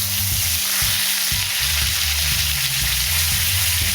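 Steak sears steadily in a hot pan, a loud, continuous sizzle with a few low knocks as the meat is turned, close up and with no talking.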